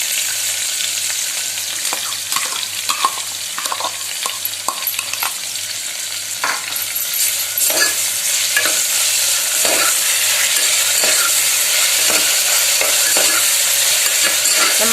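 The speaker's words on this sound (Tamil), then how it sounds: "வெங்காயம் சேர்த்து நல்லா வதக்கிக்கலாம்" Onions sauté in oil in a pan for chicken biryani, giving a loud, constant sizzle under repeated scraping stirs of a spoon that grow busier over time, with no speech.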